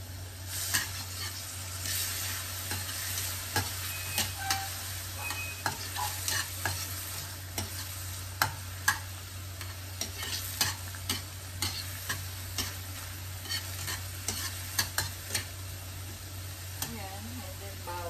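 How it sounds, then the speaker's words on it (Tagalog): Onion sautéing in a little olive oil in a pan for a tuna dish: a constant soft sizzle broken by frequent clicks and scrapes of a spatula stirring, heard up close. "And then, sibuyas. Gisa lang natin."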